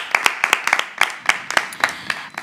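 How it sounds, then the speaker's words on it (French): A studio audience at a French TV show claps for itself in a burst of individual hand claps, rhythmic and fairly close, from a small group without crowd roar. "Vous pouvez vous applaudir."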